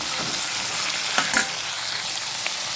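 Chopped onions and tomatoes fry in a pan for mushroom sukka, giving a steady loud sizzle broken by a few scraping stirs.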